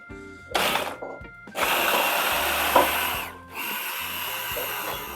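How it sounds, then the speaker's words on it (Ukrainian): A kitchen blender whirs through garlic sauce with lemon juice in loud, steady bursts, starting and stopping a few times with short pauses between runs, close by and with no talking over it. "Весь цей чесничок нам треба викласти сюди у блендер."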